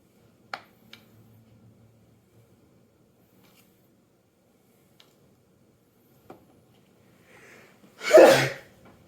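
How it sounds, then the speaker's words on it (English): A single sharp sneeze, triggered by pepper, bursts out near the end of an otherwise quiet stretch broken only by a few faint clicks and taps. "Sorry, I forgot pepper makes me sneeze."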